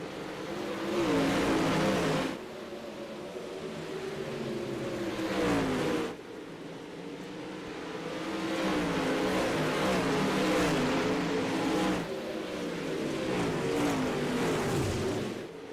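Dirt track race cars roar around the track at Volusia during a championship night, engines surging loud and close as packs pass, rising and falling in waves with brief dips between cars.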